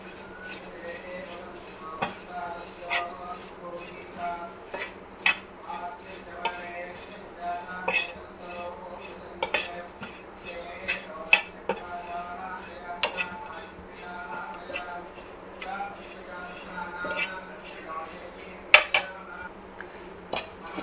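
Flattened rice (poha) stirred and fried in a pan, with steady scraping and frequent sharp metallic clinks of a spoon against the pan over a low hum, close and moderately loud.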